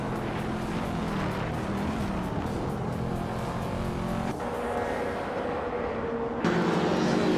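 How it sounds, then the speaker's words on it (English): A classic 1992 Ford Escort RS Cosworth race car engine drones loud and continuous at race pace, with its pitch stepping as gears change partway through and again near the end. "Maya's car, a classic 1992 Ford Escort RS Cosworth, is starting on pole position"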